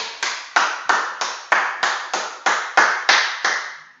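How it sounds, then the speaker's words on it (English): A few people clap in a slow, evenly spaced rhythm after a joint-friendly HIIT workout class, about a dozen distinct, fairly close claps in a row with no talking over them. "let me give you a big round of applause"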